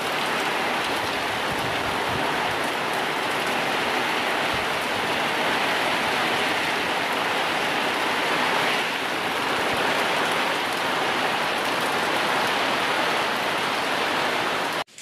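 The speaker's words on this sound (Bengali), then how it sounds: "আরও বেড়ে চলেছে বৃষ্টি।" Heavy cyclone rain from Cyclone Remal pours down steadily and loudly as a dense, continuous hiss that stays strong throughout, with no talking.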